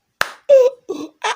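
A person stamping and clapping on their own body, four separate sharp hand-on-body hits and slaps spaced across a second and a half, close and dry with silence between each.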